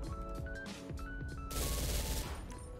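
Submachine gun fire in GTA FiveM with a custom weapon sound pack: rapid bursts of gunshots, then a louder, denser volley of automatic fire near the end, with no talking.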